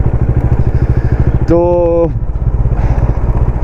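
A Bajaj Dominar 400 motorcycle riding on a road toward Chikkamagaluru, its engine a steady loud rumble throughout, a rising tone briefly cutting across it, with someone speaking over the ride.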